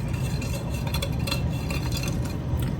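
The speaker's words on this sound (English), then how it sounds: "And I'm just doing this with kind of a medium whisk." Instant pudding is whisked by hand with a medium whisk in a bowl, giving soft, continuous scraping with light clinks against the bowl, close and fairly quiet.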